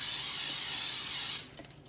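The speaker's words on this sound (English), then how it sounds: "but I'm just gonna use cooking spray." Cooking spray hisses steadily from an aerosol can into a pan for over a second, a loud, close, broadband spray that stops abruptly, leaving faint rustling behind.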